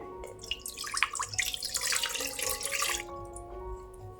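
Half a cup of water poured over seeds while making homemade hair oil: a short, close splashing trickle lasting a few seconds, fairly quiet, with no talking.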